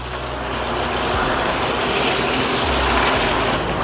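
A water pump motor runs with a steady broadband rush of gushing water as cauliflower is washed under cold water, loud and continuous throughout with no talking.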